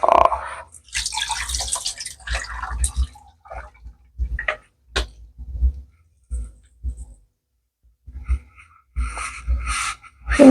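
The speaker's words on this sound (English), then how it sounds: "And throw this water off." Hot rinse water is poured off soaking black beans, heard as several short splashing and trickling bursts separated by quiet pauses, fairly close.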